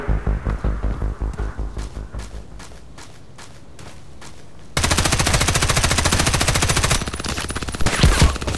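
Rapid bursts of automatic gunfire from the online shooter Contract Wars rattle loudly in tight, even repeats, pause briefly, then resume as a dense, sustained stream of machine gun fire.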